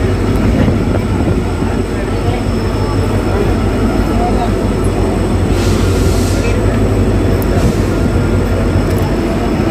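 Passenger express train departing Dharmavaram station in India, with a loud continuous rumble of wheels and carriages heard from on board, steady throughout, with brief hissing bursts and faint background chatter.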